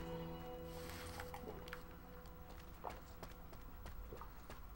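Faint horse hooves clip-clop in an uneven rhythm in the video game Shadow of the Colossus, over a quiet background of steady tones.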